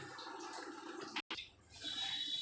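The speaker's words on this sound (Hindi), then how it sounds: "इस पर ये पानी ऐसे गिराते जाएंगे और ये आइस गलता जाएगा" Hot water poured from a mug onto built-up ice inside an LG double-door freezer, a close, steady splashing trickle with a brief break before the pour resumes and runs on.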